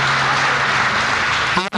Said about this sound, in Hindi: मैं उन्हें वापस बुला रहा हूं आपकी प्यार भरी तालियों के बीच